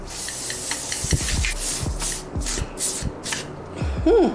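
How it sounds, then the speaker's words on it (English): Several short bursts of makeup setting spray hiss one after another, sprayed close onto a face, with faint rustling between them and no talking. "I'm going to set my entire face with this setting spray"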